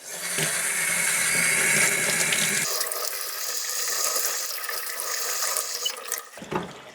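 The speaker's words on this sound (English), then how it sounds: "I'll go ahead and run it under this faucet." Tap water runs steadily from a faucet over a NOCO Genius Boost GB20 lithium jump starter, a loud splashing rush that changes tone partway through as the flow hits the unit, then tapers off near the end.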